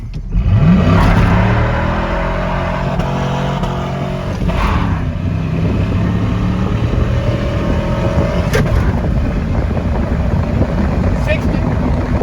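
The V8 engine of a five-speed Chevrolet Silverado pickup revs up loudly and rises in pitch at the start, then holds a heavy, droning pull under wind noise while people talk inside the cab.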